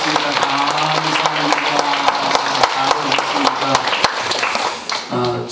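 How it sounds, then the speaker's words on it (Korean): A church congregation claps together in steady, dense applause welcoming a returning member, with a voice speaking over the clapping as it fades at the end. "여기 박수로 환영하겠습니다."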